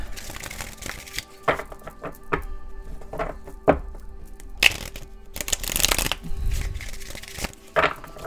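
A deck of cards being shuffled, with crisp riffling bursts, slaps and taps at an uneven pace, close and fairly quiet, with no voices.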